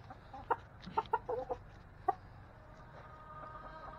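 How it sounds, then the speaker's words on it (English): A rooster lets out several short, nearby clucks in an irregular cluster, then one more cluck after a pause, over a low background hum. "So here is our rooster."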